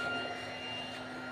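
Solar-powered electric fan running indoors, giving off a steady, even whir with a constant motor hum and a few faint tonal whines, with no talking over it.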